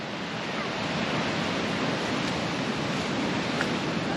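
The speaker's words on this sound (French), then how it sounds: "On s'est trouvé un petit spot fort sympathique à côté d'un torrent glacé." Glacial mountain torrent in Kyrgyzstan rushing close by as a dense, continuous roar of broadband water noise with no pauses.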